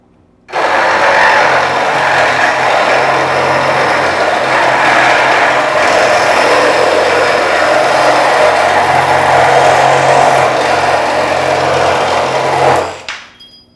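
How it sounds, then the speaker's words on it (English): A Metabo SSE 18 LTX BL cordless reciprocating saw with a metal blade cuts through 1-inch steel tubing with a 2mm wall, a loud, steady buzzing rasp running for about twelve seconds before stopping abruptly. "we'll be using a metal blade, cutting a 1-inch tubing with a 2mm wall thickness."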